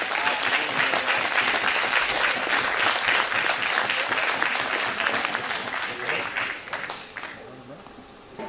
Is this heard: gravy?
no